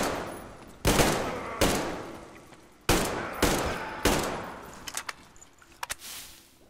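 Shotgun fire in Metro Exodus, five loud booming blasts spaced about a second apart, each with a decaying tail, followed by lighter clicks and rattles of reloading.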